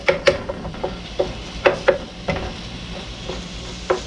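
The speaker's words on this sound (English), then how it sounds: "we're going to let that start to get brown and cook" Ground beef browning in a skillet with a soft sizzle underneath, broken by sharp scraping clicks of a utensil stirring the meat at an uneven pace, close up and with no talk.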